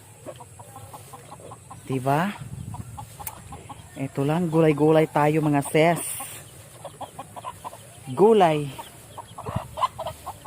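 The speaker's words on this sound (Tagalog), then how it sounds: "Ayan ang manok ko." Chickens cluck in short rhythmic bursts nearby while someone talks over and between them.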